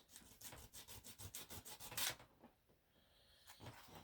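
Wood rubbed by hand with 80 grit sandpaper, about a dozen quick rhythmic back-and-forth scratchy strokes close up, then a brief pause and a couple of lighter strokes.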